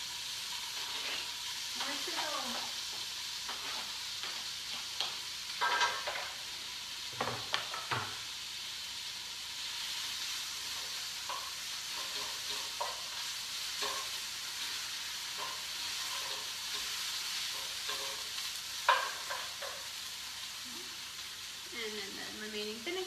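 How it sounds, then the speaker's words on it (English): Chopped spinach fries and sizzles in a pan with vinegar, a steady hiss broken by scraping stirs, while a person talks intermittently over the cooking. "Cook, stirring occasionally. Add the chopped spinach and the remaining vinegar."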